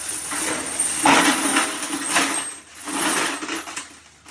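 Small hard carbide inserts pour into a 10-litre metal bucket in rattling, jingling waves, loud and close, swelling and easing a few times.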